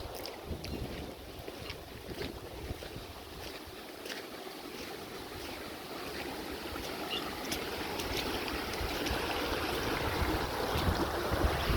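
Rainwater from heavy rain flows through farm fields in a continuous rushing wash, steady and fairly loud outdoors, with wind noise and no talking.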